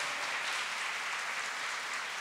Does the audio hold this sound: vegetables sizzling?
no